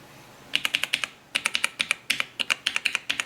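Fingers type on the keyboard of a Toshiba T3200 laptop, bursts of crisp, rapid key clicks in quick rhythmic runs with short pauses, close and clear with no voices.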